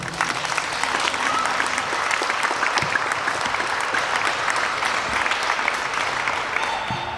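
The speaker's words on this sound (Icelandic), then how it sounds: "Og það skulum við nú gefa gott klapp." Sustained crowd applause welcoming footballer Sara Björk at her signing day, a dense steady wash of clapping filling the whole stretch without a break.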